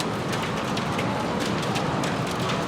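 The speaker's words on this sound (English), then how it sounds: "Streets just filled up with the hail." Heavy hail falling outside and filling the streets with large stones, a dense, steady hiss of impacts with sharper clicks scattered through, continuous and fairly loud without any talk.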